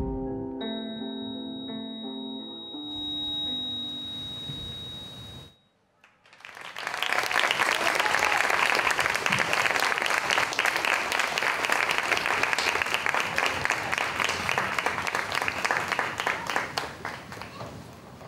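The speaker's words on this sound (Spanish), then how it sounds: "Creo que se merece otro fuerte aplauso." Loud, sustained audience applause at a final gala show after a dance performance, dense clapping from a large crowd that swells in after fading music and holds steady for over ten seconds.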